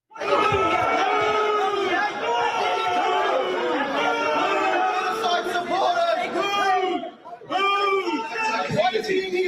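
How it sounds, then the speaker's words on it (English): Hecklers shout and boo the Prime Minister at an Eid celebration in Sydney's southwest. Many loud overlapping voices yell close by in an agitated crowd, with one brief dip before the shouting surges again. "hecklers have booed the Prime Minister, Anthony Albanese, and Minister for Home Affairs, Tony Burke, during an Eid celebration in Sydney's southwest"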